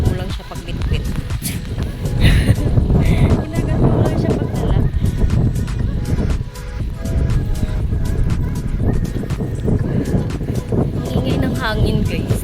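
Strong wind buffets a handheld microphone outdoors in cold winter air, giving loud rumbling gusts that rise and fall steadily over about twelve seconds.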